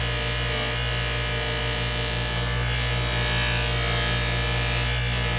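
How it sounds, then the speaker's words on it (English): A bench buffer spinning a polishing wheel loaded with white compound on jewelry makes a loud, constant motorized whir with a steady hum and no pauses. "you're using the bench buffer with a white compound"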